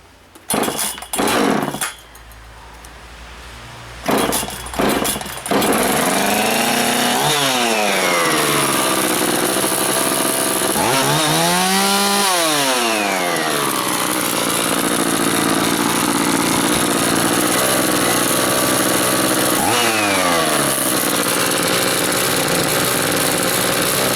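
An Oleo-Mac chainsaw fitted with a new original carburetor gives a few quick, rasping pull-start tugs, then catches and runs loudly up close, its engine revving in rising and falling swells.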